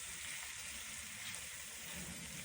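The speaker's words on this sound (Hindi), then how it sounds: "अब मटरों को 2 से 3 मिनट तक अच्छी तरह से पकाएंगे।" Boiled peas cook in a pan for a dry aloo matar gobi sabzi, giving a soft, even sizzle that runs steadily without pause and stays faint, with no voices.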